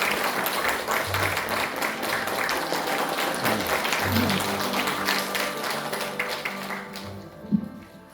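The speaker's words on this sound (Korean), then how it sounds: "한 박수 맞아주십시오." A crowd applauds steadily for several seconds, a dense wash of clapping that fades out near the end.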